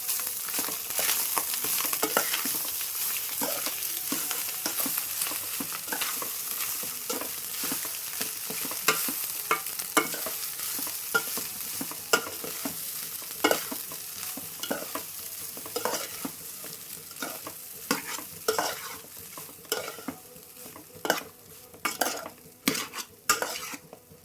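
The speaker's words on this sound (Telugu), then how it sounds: "ఇప్పుడు మొత్తం కలిపేసుకుందాము" A spiced, mildly chili-seasoned mixture fries in a pan as a utensil stirs it, giving steady sizzling with frequent metallic scrapes and clinks against the pan that grow more pronounced toward the end.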